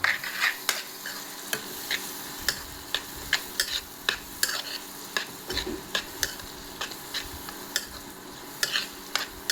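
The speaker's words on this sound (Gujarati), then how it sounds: "હવે થોડીક વાર એને હલાવશું." A spoon stirs spiced food sizzling in a frying pan, with ground coriander-cumin powder added. It sounds as a steady series of sharp scraping taps against the pan over a continuous frying hiss, close and clear.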